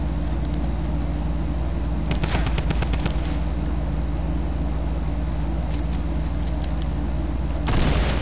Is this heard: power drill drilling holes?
no